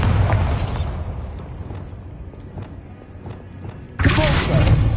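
A Bombarda blasting spell in Hogwarts Legacy, a loud booming explosion whose rumble decays over several seconds, followed by a second sudden blast near the end.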